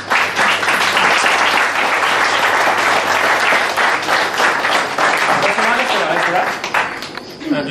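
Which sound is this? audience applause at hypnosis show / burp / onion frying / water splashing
audience applause at hypnosis show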